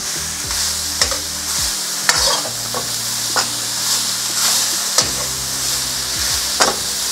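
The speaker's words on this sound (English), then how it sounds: "We're going to reintroduce our minced pork, which we've already browned off. And stir that into the mix." Browned minced pork stirred into a sizzling frying pan mix for spring roll filling, loud continuous frying with repeated scraping and knocking strokes of a utensil, close up, no talking.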